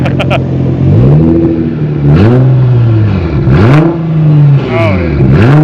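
A powerful Nissan GT-R R35 engine with a custom 4-inch Switzer exhaust revs up repeatedly, climbing and falling in several loud bursts, close by, with people talking over it.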